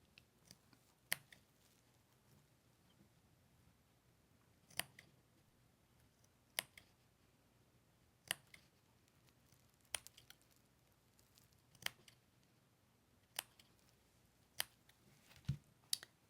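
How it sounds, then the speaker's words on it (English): Scissors snip through a fabric seam allowance at a sewing table, one faint, crisp cut every second or two over quiet room noise. "I'm just clipping about every 1/4 of an inch, making sure that I don't cut that stitching."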